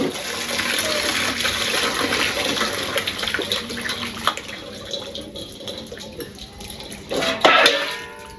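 Tap water running over a peeled bottle gourd being rinsed in a home kitchen: a continuous splashing flow that eases in the middle and then surges louder near the end.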